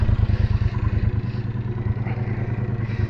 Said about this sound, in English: this is the first ride with the modified standard exhaust on it